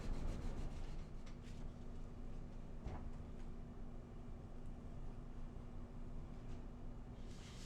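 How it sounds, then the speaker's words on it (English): Osmo wood wax finish is worked into a wooden surface in small circles with a whitepad, giving a soft, continuous rubbing hiss. It is faint and close, with a few slightly sharper strokes and no talk. "Just working in little circles like I normally do with the whitepad."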